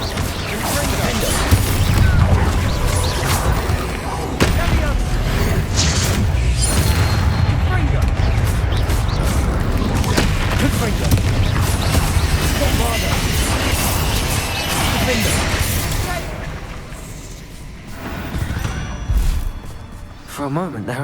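Repeated Confringo fire-spell blasts and combat impacts in the video game Hogwarts Legacy, a dense run of loud booms and crashes with voices calling out over the battle.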